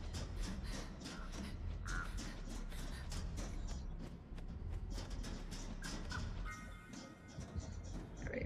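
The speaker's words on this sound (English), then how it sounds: "I've got a crow" Crow cawing in the horror game Dead by Daylight, a few harsh caws rising out of a dense, constant wash of game ambience and background noise.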